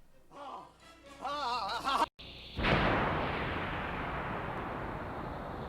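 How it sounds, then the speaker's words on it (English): A light gun video game explosion bursts out suddenly after a stretch of game voices and sounds, then decays in a long rumbling roar that fades slowly. "Sorry, I just wanted to see that explosion."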